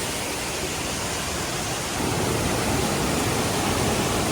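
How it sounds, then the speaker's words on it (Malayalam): A steady, loud roar of falling water, continuous and unbroken, with no voices. "സൂപ്പർ വെള്ളച്ചാട്ടം"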